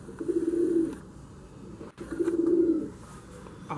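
A breeder pigeon coos twice in low, rolling phrases, close by, each call lasting about a second against quiet room ambience.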